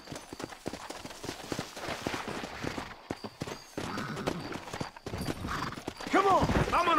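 Horse hooves clattering in the video game Red Dead Redemption, a quick irregular run of hoofbeats under game music and effects, ending with a horse whinny and a shout.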